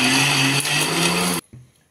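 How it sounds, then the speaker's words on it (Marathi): A kitchen mixer grinder whirs steadily with a strong motor hum while grinding tambul ingredients, then cuts off abruptly and gives a short second burst in pulse mode. "मिक्सरमध्ये फिरवताना कंटिन्युअस मिक्सर चालवायचा नाही, पल्स मोडमध्ये आपल्याला ते मिक्स बारीक करून घ्यायचंय."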